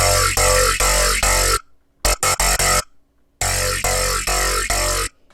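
A deep, talking growl bass patch built in Serum plays in loud, wobbling rhythmic hits, three before a pause, then a short stuttered burst of chopped stabs and another run of growling notes, alone with no voices.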